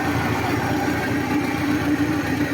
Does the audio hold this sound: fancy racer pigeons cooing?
no